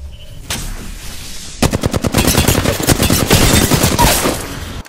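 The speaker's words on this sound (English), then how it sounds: "They spotted me. I'm taking shots." Rapid automatic gunfire in the Apex Legends battle royale shooter, a few isolated shots followed by a long, loud, close burst of fast repeated cracks.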